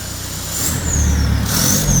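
A Seat Leon 2.0 TDI diesel with a straight-pipe exhaust revs up close, a low rumbling engine note rising and holding loud over a couple of seconds, with a high whine running above it.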